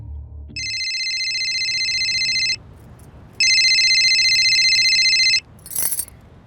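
A phone ringtone trills in two long electronic bursts separated by a short pause, followed by a brief clink.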